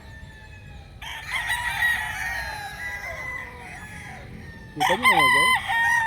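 A gamefowl rooster crows loudly and close by, one long drawn-out crow followed by a second shorter burst. Someone speaks briefly over the calls.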